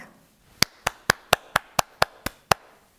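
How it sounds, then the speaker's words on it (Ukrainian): A single pair of hands claps nine times in an even, steady rhythm, each crisp clap close and distinct against a quiet background, with no talking. "Коли дощик плескай в долоні."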